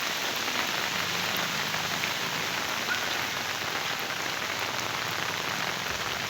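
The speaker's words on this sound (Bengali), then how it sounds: "বৃষ্টি অঝরে পড়ছে" Heavy rain pours steadily in Sylhet at the start of Boishakh, a dense, even hiss of drops striking surfaces that continues unbroken throughout with no voices.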